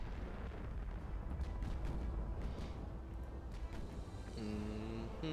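Naval gunfire in Ultimate Admiral: Dreadnoughts, with battleship turrets firing amid a fleet engagement. Dense, continuous rumbling booms overlap into a steady roar, and a brief tonal sound comes near the end.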